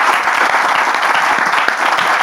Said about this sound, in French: On va d'ailleurs donc les accueillir avec des applaudissements.